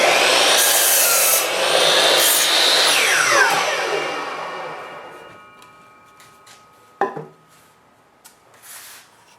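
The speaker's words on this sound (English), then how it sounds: "go ahead and mark the board with that pin all the way across the board" A steel pin is dragged across a wooden board to scribe a marking line, giving a loud, steady scraping rasp for about four seconds that fades, followed by a few faint taps and knocks.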